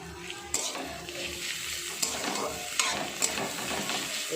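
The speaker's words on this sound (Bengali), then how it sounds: "সেই ফেঁটলে রাখা রসুনটা দিয়ে এটা পেঁয়াজের সঙ্গে ভালো করে নাড়াচাড়া করে নিচ্ছি" Garlic, ginger and onion stirred while frying in a pan, a steady sizzle broken by a few sharp scrapes and clinks of the spoon against the metal.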